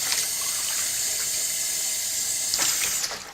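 Warm water runs steadily from a kitchen tap into a cup as coconut pancake batter is prepared, a continuous bright hiss and splash with a brief surge near the end.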